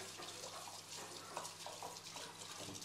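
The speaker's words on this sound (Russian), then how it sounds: "просто слышен звук воды" Tap water runs steadily into a kitchen sink while a knife is washed during preparation of Olivier potato salad, a continuous close splashing stream with slight fluctuations and no voices.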